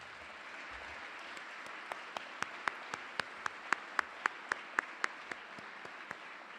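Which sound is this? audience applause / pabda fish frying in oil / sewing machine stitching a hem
audience applause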